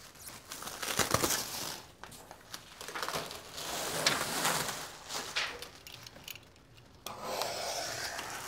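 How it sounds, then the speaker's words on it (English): Wrapping is pulled and rubbed off a new machine, model 3566 or 3567. Quiet, close crinkling and scraping come in uneven bursts, with no talking. "Take the wrapping off the machine."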